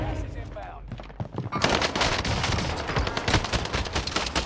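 Dense shotgun and automatic gunfire rages in a Rebirth Season 3 battle royale shooter, a loud continuous barrage of overlapping blasts that bursts in after a moment and keeps going, with voices heard beneath it.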